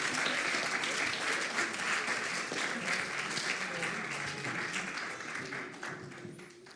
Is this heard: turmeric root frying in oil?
no